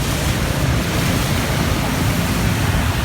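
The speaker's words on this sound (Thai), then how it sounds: "น้ำไหล ลงมาถนนแล้วครับ" Floodwater from the Chao Phraya river pours onto a road under a bridge in Bangkok, a loud, continuous rushing roar close by, steady throughout with no voices over it.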